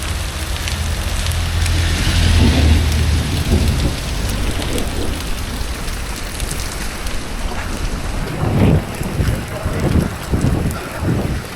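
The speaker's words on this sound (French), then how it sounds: "Il pleut plus à torrent, il pleut juste beaucoup. Non, il pleut juste énormément." Heavy rain pours steadily on a Mexico City street, a dense continuous hiss broken by low thundery rumbles and wind buffeting the microphone.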